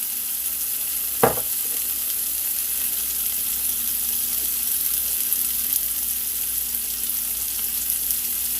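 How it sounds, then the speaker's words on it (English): Food sizzles steadily in a hot pan, a continuous bright hiss with one brief clink near the start. "I love that sound when it starts frying"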